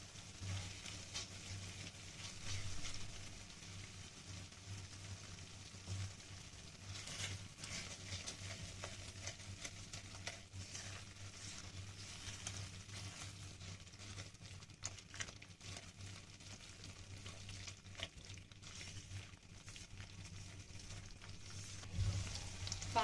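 Onion masala with garlic ginger paste frying in a pan, a faint, steady sizzle with occasional soft scrapes as a spoon stirs it, with no talking.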